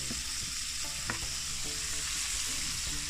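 Chicken wings frying in hot oil, a steady dense sizzle close up that runs throughout, with a few soft clinks and stirring sounds over it and no talking.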